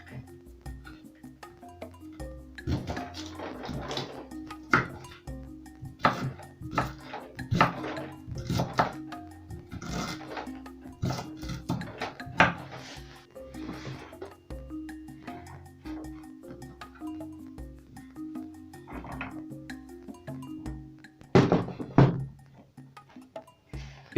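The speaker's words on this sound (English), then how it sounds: "I'm going to chop my ginger too into smaller pieces" Knife chops through fresh unpeeled ginger on a board in a series of uneven, sharp taps, some clustered and some spaced apart, close and moderately loud, with one heavier knock near the end.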